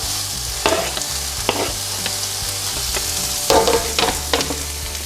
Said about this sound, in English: we're gonna cook and stir these until they're crisp and tender